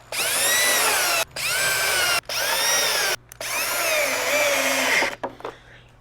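A power drill drives small screws into the side of a wooden harvest rack from a hardware kit. It gives four close, loud bursts of whining motor with rising and falling pitch, separated by short pauses.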